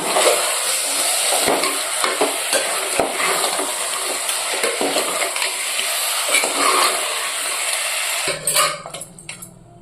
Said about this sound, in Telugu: మొత్తం ఒకసారి కలిపేద్దాము.